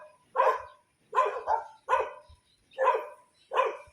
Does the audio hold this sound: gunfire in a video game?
no